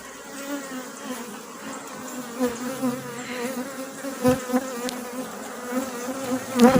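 Honeybees in an open hive during a spring frame inspection give a steady, close buzzing hum that holds throughout, with brief louder swells as bees fly near. Nobody speaks.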